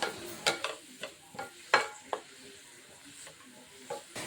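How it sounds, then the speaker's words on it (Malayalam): Chopped onions sautéing in coconut oil for a mushroom egg stir fry, a light sizzle punctuated by repeated crisp spatula scrapes at an uneven pace, close and clear with no speech. "ഇനി ഇത് നന്നായിട്ട് വഴറ്റിയെടുക്കണം. സവാളയുടെ നിറം മാറുന്ന സമയം വരെ ഒന്ന് വഴറ്റി കൊടുക്കാം."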